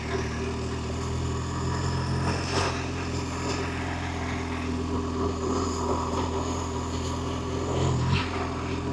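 BMW R1250GS Adventure motorcycle climbing a dirt road toward Santiago Peak, its engine drone steady and close, blended with wind rush and occasional bumps from the rough surface.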